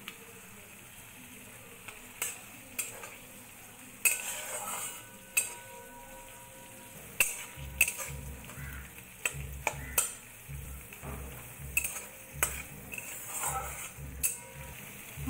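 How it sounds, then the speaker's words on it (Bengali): Spice masala with tomato sizzles gently in a pan while a spoon stirs and scrapes, giving repeated sharp clinks and scraping strokes over a low continuous frying hiss for a Bengali cauliflower roast. "এবার মশলাটাকে ভালোভাবে কষিয়ে নেব।"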